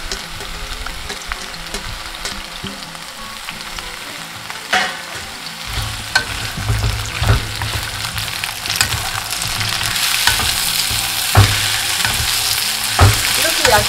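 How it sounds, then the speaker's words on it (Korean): Vegetables frying in a generous amount of olive oil in a pan, a loud steady sizzle with scraping stirs and occasional utensil knocks that grow busier toward the end. "이 팬에다가 야채를 볶을 겁니다. 자, 올리브유를 좀 넉넉하게 넣어주시고요."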